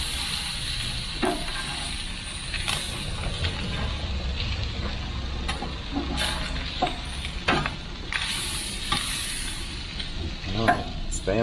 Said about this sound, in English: I'm cooking out here on the grill.